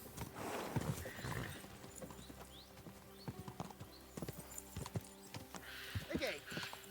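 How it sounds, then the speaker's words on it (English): Horse hooves clip-clopping with a brief whinny in the medieval game Kingdom Come: Deliverance II, mixed with game ambience while a person talks over it. "Watch out with that horse!"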